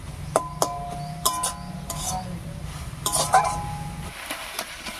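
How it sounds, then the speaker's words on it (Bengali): Light metallic clinks and taps of a fork mashing boiled eggplant in a dish, scattered and uneven, with a low hum underneath. "ভাজার কাটা দিয়ে বেগুনটাকে নাড়াতে নাড়াতে দেখুন একটা গলা গলা মতো করে ফেলেছি"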